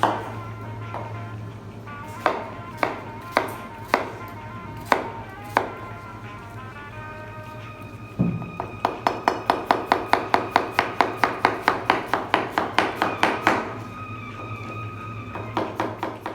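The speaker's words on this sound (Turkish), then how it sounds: "soğanımızı güzel bir şekilde doğradık" A knife chops an onion rhythmically on a cutting board, scattered strokes at first, then a fast steady run of sharp, close chops.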